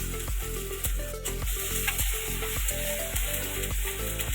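Whole spices, dried chillies, bay leaves and chopped ginger fry in hot oil in a pan, producing a loud, constant close sizzle with rhythmic clanks of a utensil stirring against the metal.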